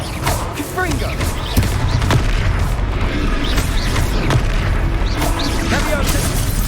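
In the video game Hogwarts Legacy, the Confringo explosive spell sets off repeated booming blasts and thuds amid a loud, chaotic battle, with voices talking over the fight.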